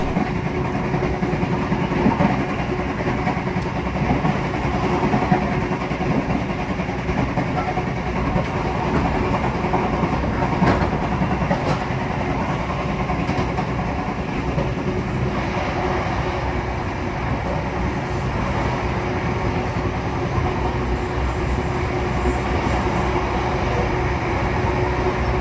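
Inside a carriage of the Dharmawangsa or Brantas passenger train, a steady broadband rumble of the running train with faint rhythmic rail clatter, continuous and even, with no talking.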